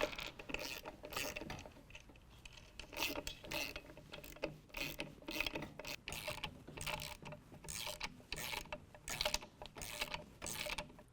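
A ratchet clicks steadily as it tightens 10mm nuts on a strut spacer during a lift kit install on a 2017 Ford F-150 4WD, with a continuous close run of rapid pawl clicks broken by short pauses.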